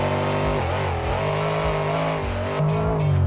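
A monster truck's big engine roars and revs steadily throughout while the truck pops up onto its back wheels for a wheelie, loud and close with shifting pitch as the throttle is worked.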